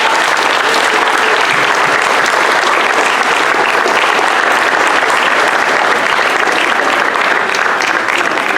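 Sustained audience applause at a junior high school year-end awards ceremony, a dense steady wash of clapping from a large crowd that continues loudly throughout without pause.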